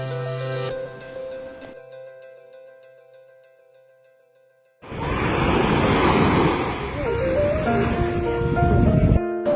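Sea waves wash onto a beach with a steady broadband roar, loud and close, after a stretch of tonal sound that fades out.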